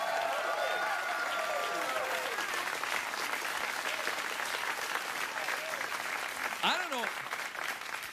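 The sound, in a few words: studio audience clapping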